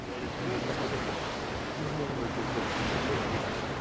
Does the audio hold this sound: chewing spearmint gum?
no